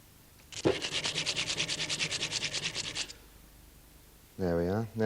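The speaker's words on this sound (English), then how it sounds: "put the face of the hammer on like so. And remove all that lacquer." Hand sanding lacquer off the face of a hammer, a fast rhythmic series of about twenty rasping strokes lasting a few seconds, followed by a brief spoken voice.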